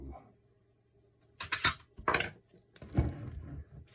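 A hobby servo from an SO-ARM-100 robot arm being taken apart by hand, with small plastic clicks, scrapes and rattles of parts in a few close, brief bursts over a quiet background.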